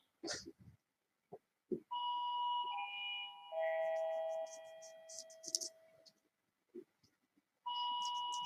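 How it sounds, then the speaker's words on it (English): A doorbell chimes its two-tone melody twice, with clear ringing tones and short bursts of clatter and background noise around them. "Oh my word, the doorbell's going mad"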